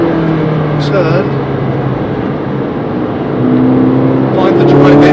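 A race car accelerates on the wet-to-drying Brands Hatch Indy Circuit, its engine droning steadily and rising in pitch, loud and close, with someone talking over it.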